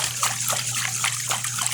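Rice being washed and vigorously agitated in a bowl of water to release its starch, giving soft, close sloshing and splashing in rhythmic bursts over a low, steady hum.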